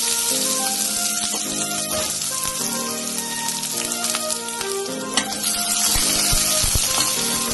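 Onions frying in oil with cumin seeds in a kadai for egg fried rice, a loud, dense crackling sizzle running throughout, with spatula strokes under a layer of music.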